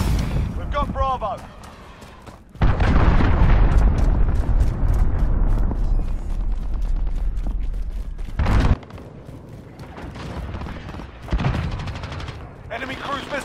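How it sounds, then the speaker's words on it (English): Heavy explosions from cruise missile strikes in the Call of Duty Modern Warfare video game: a loud, sustained, rumbling blast lasting several seconds, with bursts of gunfire and a game voice heard around it. "Allied cruise missile away."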